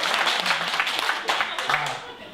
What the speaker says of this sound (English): Maybe give me a big clap if you like it, and a really small one if you don't like it.